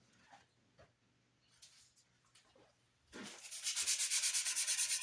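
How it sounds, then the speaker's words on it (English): Sandpaper rubbed rhythmically across a custom sparkle Flying V guitar body built to 1950s specs, a few soft scrapes followed by fast, loud, steady back-and-forth sanding strokes up close. "Let me get a little bit of sandpaper on that."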